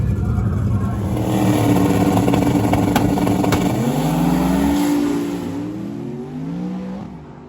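A turbocharged Crown Victoria makes a drag racing test pass, its loud engine roaring and revving close by and then fading as it pulls away, with a commentator talking over it.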